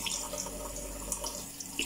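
Water runs steadily from a faucet into a sink during face washing, with a continuous close splashing hiss and a few brighter splatters.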